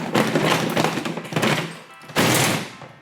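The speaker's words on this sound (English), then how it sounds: "Do you have a toolbox that sounds like this?" Tools rattling and clanking inside a toolbox, heard close and loud in two dense bursts separated by a brief dip, with no talking.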